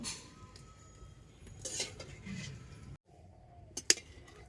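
Fried raw-mango poa pitha is set down on a plate, with faint handling rustles and a couple of sharp, light clinks of the plate near the end, quiet and close.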